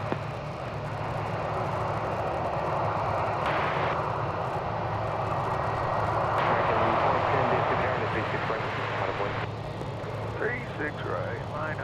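Envoy jet airliner taking off from runway 36 right at DFW Airport, a sustained loud engine roar swelling and fading, heard under intermittent radio chatter and talk.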